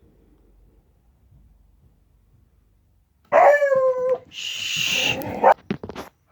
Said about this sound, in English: The dog's letting us know that there's people walking around on the sidewalk